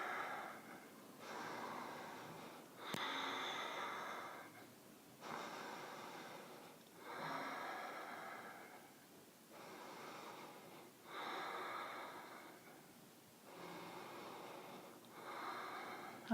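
Slow, deep yoga breaths held in Utkatasana, fierce pose, each long inhale and exhale audible up close as a soft airy rush, repeating in an even rhythm of roughly two-second cycles, quiet throughout.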